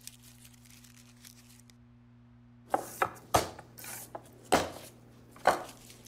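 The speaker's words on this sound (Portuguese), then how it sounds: "Como não são dentes grandes, eu vou partir em dois" A kitchen knife halves small garlic cloves on a cutting board, giving a handful of crisp chops over a steady low hum in a quiet kitchen.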